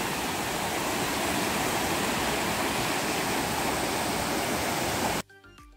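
A Guadeloupe waterfall roars as a loud, steady, broadband rush of falling water, continuous and close, before cutting off abruptly near the end.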